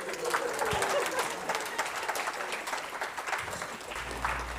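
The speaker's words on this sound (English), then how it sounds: "Give a round of applause." Audience applause at the close of a leadership-track conference day, a dense crackle of clapping that holds steady for several seconds and thins slightly near the end.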